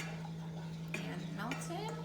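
A spoon stirring melted coconut oil, peanut butter and sweetener in a pot, soft scraping and gentle clinks over a steady low hum, with a little indistinct voice.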